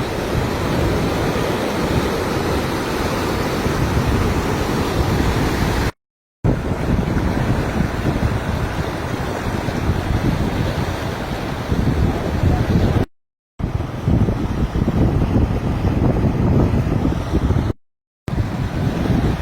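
Flood water rushes as a torrent at Taunsa Sharif in Pakistan, a loud, unbroken roar mixed with heavy wind buffeting the microphone. The noise runs throughout, cut by a few short gaps, and no one speaks.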